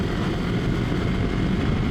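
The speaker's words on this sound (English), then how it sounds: "Now let's give it some more revs, come on." A Kawasaki Versys X 300 motorcycle's engine drones steadily under load while riding on a narrow road, a continuous close engine roar mixed with wind noise and no talking.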